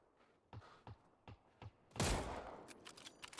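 Video game gunfire: four sharp, evenly spaced shots ring out, followed by a louder burst of rapid fire with a crackling tail, all fairly distant and muffled.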